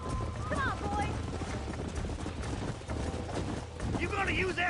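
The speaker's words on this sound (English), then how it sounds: "There's the horses!" Horses galloping in the Red Dead Redemption video game, a dense drumming of hooves on dirt beneath loud shouting voices and whooping calls.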